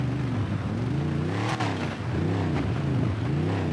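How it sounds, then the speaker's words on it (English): A car engine revs hard with a throaty exhaust in GTA 5, its pitch rising and falling in loud, close waves without talk. "listen to this exhaust"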